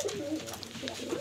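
Pigeons coo softly and close by in a short burst of low, throaty warbling calls, with a murmur of talk faintly underneath.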